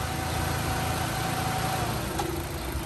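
A 2006 Mitsubishi Colt Ralliart with its 1.5 litre turbo engine idles steadily, a faint, even mechanical hum with a light vibration and no voices.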